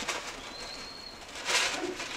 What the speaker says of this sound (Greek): Φύγανε τα πουλιά, ναι, ναι,